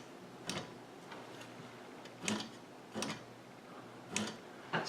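Heat bed of a Rapide Lite 2 3D printer tapping its limit switch: faint, sharp clicks about every second or so, over a steady quiet mechanical hum.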